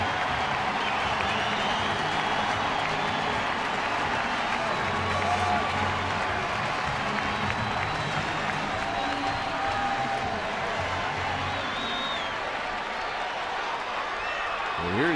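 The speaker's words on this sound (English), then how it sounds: "The crowd appreciates the effort." A large baseball crowd at a ballpark applauds and murmurs steadily, a broad wash of clapping and cheering with a broadcaster's voice running over it.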